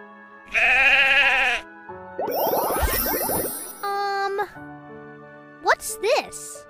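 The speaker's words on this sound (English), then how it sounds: "Sheep." A sheep bleats in a short toddler word-learning sequence, a clear, close bleat set among other brief chimes and child-oriented sounds.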